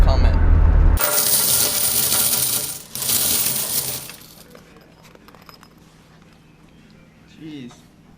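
Heaps of quarters collected from vending machines pour and clatter in a loud, dense metallic rush for about four seconds, then scattered coins clink more quietly and sparsely.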